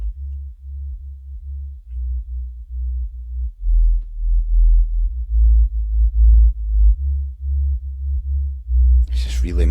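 Music with heavily boosted sub-bass EQ, a thick, muddy low-end throb of pulsing bass notes dominating everything, with only faint upper detail and a brief brighter burst at the end.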